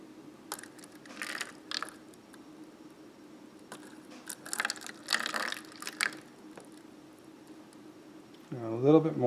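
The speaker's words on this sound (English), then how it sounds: "we're going to be going until there's about a centimeter of water remaining in the cell after we stop pouring" Water pours into the cells of a seed tray, giving faint intermittent trickling and splashing bursts close by with quiet gaps between them, followed by a brief voice at the end.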